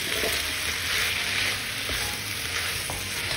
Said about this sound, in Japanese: お肉半分ぐらい炒まってきたらこちら玉ねぎ加えます